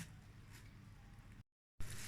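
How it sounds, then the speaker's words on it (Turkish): Broad beans being packed into plastic freezer bags, a steady close crinkling and rustling of plastic that drops out briefly to silence before resuming loudly. "Hepsini böyle bu şekilde poşetleyeceğim."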